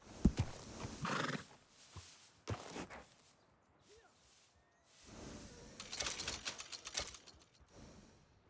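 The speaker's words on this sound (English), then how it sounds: "And a fine new horse." A horse in the Red Dead Redemption 2 video game whinnies and snorts amid clip-clopping hooves, bursts of neighing separated by quieter gaps, fairly close.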